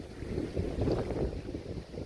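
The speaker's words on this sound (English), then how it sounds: "you can see probably here it's pretty windy" Strong wind gusting steadily outdoors at Mosquito Lagoon, Florida, a continuous low rumbling roar that swells slightly midway, with faint watery wash underneath.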